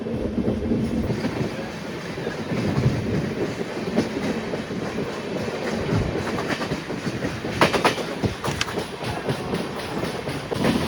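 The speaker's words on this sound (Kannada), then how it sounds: "ಸ್ಟೇಷನ್ ಮಧ್ಯದಲ್ಲಿ ಸ್ಪೀಡಾಗಿ ಬಂದು ಈಗ ಯಾಕೋ ಸ್ಲೋ ಆಯಿತು ನಮ್ಮ ಟ್ರೈನು" Heard from inside the Mantralayam Express on the run out of Bengaluru, the train rolls along the rails with a steady rumble and rhythmic clickety-clack, and a few sharper metallic clanks come near the end.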